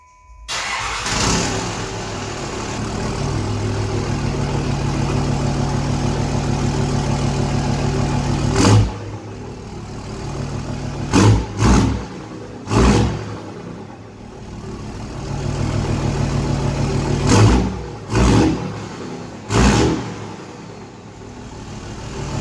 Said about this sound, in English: 8 inch U power pipe installed, sounds pretty good.